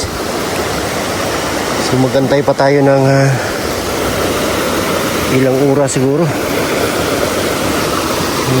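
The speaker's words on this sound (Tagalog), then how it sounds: "Grabe yung baha, oh. Hindi tayo makatawid." Loud, steady broadband rush of fast-moving floodwater with a strong current fills the whole clip, with someone speaking briefly over it twice.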